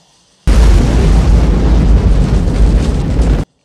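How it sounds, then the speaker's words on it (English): Battlefield bombs and grenades going off in the Vietnam War film Apocalypse Now (1979): a sustained, dense roar of blasts rolling together for three seconds, loud and close, starting abruptly and cutting off sharply. "there's bombs and grenades going off right next to him"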